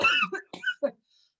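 A person coughs in a few short, close bursts, then stops, with quiet room silence afterward.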